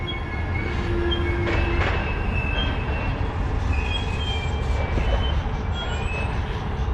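A train rumbles steadily past at close range along a platform in Romania's biggest railway station, wheels clattering with occasional high metallic squeals over the continuous roar.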